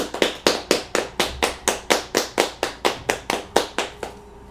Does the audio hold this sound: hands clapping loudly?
yes